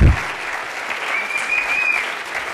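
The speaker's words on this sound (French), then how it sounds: "Bravo, on peut l'applaudir." Dense, steady applause from an audience at a startup pitch event fills the room, loud and continuous after a brief thump at the start.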